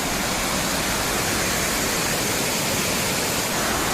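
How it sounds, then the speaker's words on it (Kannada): Water rushes in a steady, loud, broadband roar at Hebbe Falls, a nearby waterfall pouring without pause. "ಹೆಂಗ್ ಬರ್ತಿದೆ ಗೈಸ್ ನೀರು"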